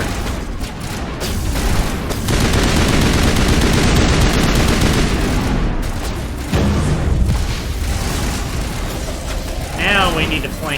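Heavy sustained gunfire in the sci-fi shooter Mass Effect, with rapid automatic bursts and booming shots filling the scene, loud and continuous, with a player speaking over parts of it.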